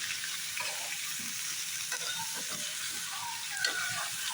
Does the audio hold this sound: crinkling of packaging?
no